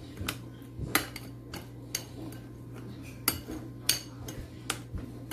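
A spoon scraping and clinking against a bowl while mixing garlic and herbs for a whole roast chicken, sharp metallic taps at an irregular rhythm over a low steady hum.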